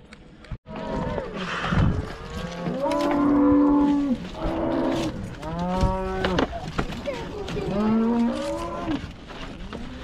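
Brahman cattle moo loudly inside a livestock trailer, with several long, drawn-out calls overlapping at close range.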